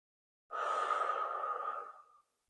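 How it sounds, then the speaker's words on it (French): A single slow, audible breath in and out during a gentle neck stretch, soft and close, rising and fading over about a second and a half with no talking. "j'inspire et je souffle tranquillement"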